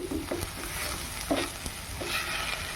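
Coconut paste is stirred into cooking vegetables for Kerala-style aviyal in a hot pan, with a soft sizzle punctuated by a few scraping strokes of a spoon.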